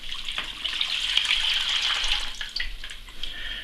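Water pours from a water softener filter housing into a bucket, a steady splashing gush that runs continuously for a few seconds, close and moderately loud with no talk over it.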